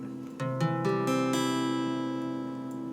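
A guitar chord strummed with its root on the fifth string, a few quick strokes building into one bright, sustained ring that slowly fades, heard up close and alone.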